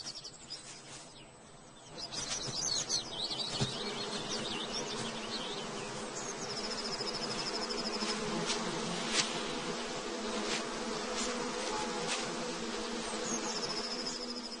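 Bees and wasps buzz steadily in a forest, a dense insect drone that swells after a quiet start and holds loud and close, with occasional faint bird calls in the background.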